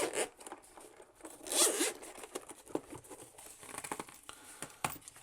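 A zipper on a double-zip carrying case for a ROG Ally handheld is pulled open in several quick runs, close up and fairly quiet, with faint handling rustle between the strokes and no voice.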